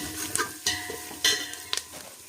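Scraping and stirring in a pan, dry grains of organic Mappillai Samba puffed rice rustling with a few sharper spatula scrapes, close by, no talking.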